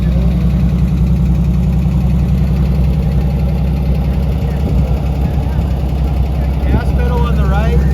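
A Corvair six-cylinder engine idles steadily in a Jetmobile belly tanker, a loud, continuous low rumble with a faint knocking pulse, while people talk over it.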